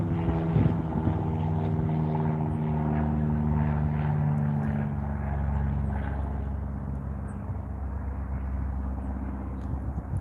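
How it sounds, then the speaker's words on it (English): A steady, droning aircraft engine hum with a low propeller-like drone, continuous for the whole stretch and fairly distant. "There's the plane."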